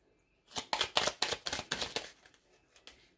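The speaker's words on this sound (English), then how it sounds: "One more shuffle." A deck of tarot cards is shuffled in a quick run of about ten crisp papery riffles, close and distinct, then a couple of softer trailing flicks.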